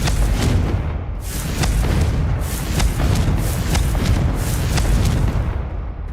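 Confringo explosive spell blasts go off in a video game as a loud, continuous run of booming bursts, each rumbling impact following closely on the last with no pauses between them.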